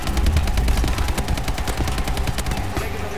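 Dense, continuous rapid gunfire from an automatic weapon in a video game team deathmatch, loud and close, with steady bursts throughout and no talking.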